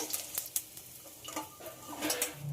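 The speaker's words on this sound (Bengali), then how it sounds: "এই সাইডটাও খুব ভালোভাবে ভেজে নেব" Snakehead fish pieces frying in hot oil in a pan, a soft steady sizzle broken by brief clicks and scrapes of utensils against the pan, fairly quiet and close.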